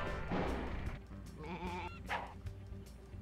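Sheep bleat repeatedly in the Looney Tunes Sheep Raider video game, several wavering cries over game sounds and background music.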